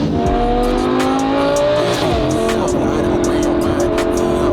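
A restored Lamborghini engine revs loudly up close, climbing in pitch, then holds a strong, rising roar with sharp crackling pops over the top.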